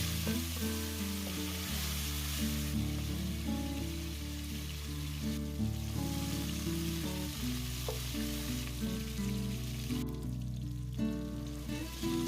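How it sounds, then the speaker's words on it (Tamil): Chicken pieces fry in hot oil for a chicken pasta dish, a soft, steady sizzle with faint crackle running under a louder musical backing throughout. "இதே ஆயில்லையே சிக்கனையும் போட்டு ஃப்ரை பண்ணி எடுக்கிறேன்."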